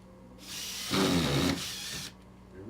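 A power drill drives screws into a wall stud in the Bless Online game, one whirring burst about a second and a half long that peaks midway, heard close with no talk.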